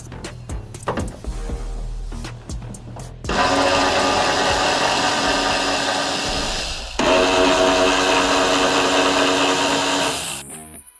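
Bolts on a Toyota Tacoma truck bed are loosened with a power tool: a few sharp clicks and taps, then two long, loud, steady whirring bursts close up, ending abruptly.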